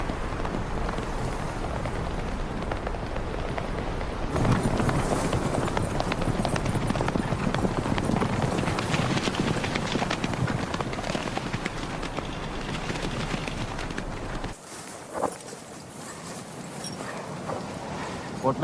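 Horse hooves clip-clopping steadily while being ridden, a continuous rhythmic patter heard fairly close for most of the stretch before the sound drops away briefly near the end.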